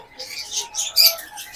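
Cockatiels at a bird farm give a quick run of high, thin chirps, several short calls in a row, close and clear over a quiet background.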